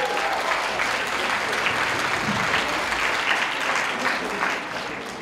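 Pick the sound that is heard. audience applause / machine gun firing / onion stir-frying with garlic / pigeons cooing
audience applause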